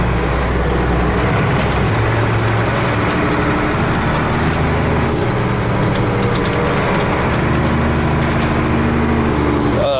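An old classic truck rescued from the brush drives slowly around a pasture in low gear, its engine chugging steadily and close by for the full stretch, with some rattling and the revs shifting now and then.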